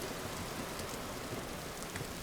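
Steady rain falls in the video game Vintage Story, a soft, even hiss of drops with no pauses, heard alone and with no voices.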